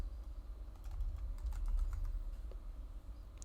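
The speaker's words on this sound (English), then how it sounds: "and I will type just input." Typing on a computer keyboard during Angular web development, a steady patter of light close key clicks over a low room hum, with no voices.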